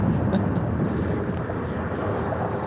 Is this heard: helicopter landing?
yes